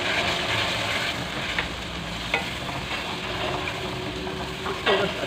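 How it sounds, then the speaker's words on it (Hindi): Spices with potato and eggplant fry in a pan under a dense, continuous sizzle, while a spoon stirs and scrapes the pan in a few sharp strokes, close and loud. "इसको बस अच्छे से भून के फिर इसमें"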